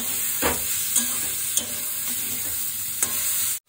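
Potato curry with tomato and onion frying in a pan, a steady close sizzle with several scraping stirs and utensil knocks, ending abruptly.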